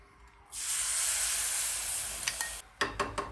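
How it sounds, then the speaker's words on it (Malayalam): An egg drops into a hot pan and sets off a sudden loud, bright sizzle that hisses for about two seconds. A few clinks of a utensil against the pan follow as the sizzle fades. "മുട്ട പൊരിക്കാൻ പോവാണ്"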